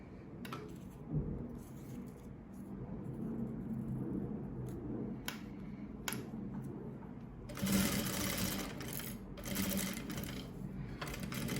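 A sewing machine stitches a straight seam on a dish towel, its rapid mechanical whirring running in bursts with short pauses and small clicks, quiet and close with no talk.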